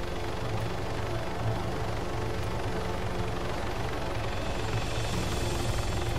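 Steady, continuous helicopter rotor and engine drone from a flying helicopter in the ArmA 3 video game, a dense unbroken roar holding even throughout with no voices.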